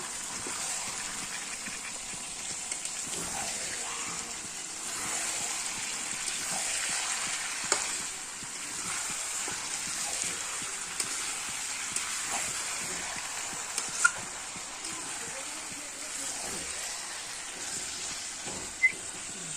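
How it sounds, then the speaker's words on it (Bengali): Mutton sizzles and fries with spices in a hot pan, a steady broadband hiss running throughout with occasional small pops and faint stirring scrapes, with no voices. "চলো মাংসের সাথে এখন কষবো মশলাটা"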